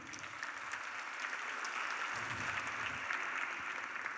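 Steady audience applause at a Yrestery Graduate Institute 2025 graduation ceremony, a dense wash of many hands clapping continuously for the academic team, moderately loud and sustained throughout with no talk over it.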